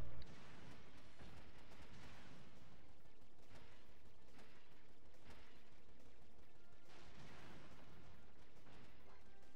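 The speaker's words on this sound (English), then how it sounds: "Fly around and blow up some space rocks." Space rocks being blown apart in Ratchet & Clank: Going Commando, a dense run of repeated blasts and crackling bursts over a steady rumbling bed, loud and busy throughout with no voices.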